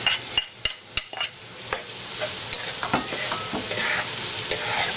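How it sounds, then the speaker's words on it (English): Salted beef stirred with onion, tomato and garlic in a hot pan for Surinamese pesi moksi alesi: several sharp utensil knocks at first, then a steady, swelling sizzle with soft scraping, close and clear. "We're gonna coat the meat with the onion and the tomato and the garlic."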